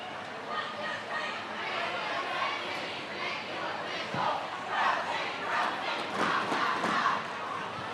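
The visiting Crow City roller derby team shouts a group cheer at a bout against Jet City, a rising chorus of voices with crowd chatter in the arena, swelling louder toward the end.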